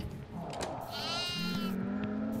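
A goat in the horror video game Devour gives a wavering, nasal bleat at close range, swelling in the middle of a busy stretch of game sound and background noise.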